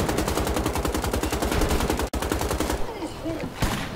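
Rapid automatic fire from a German weapon in Wolfenstein The Old Blood, a loud continuous burst of shots for about three seconds, a brief break, then a final single shot.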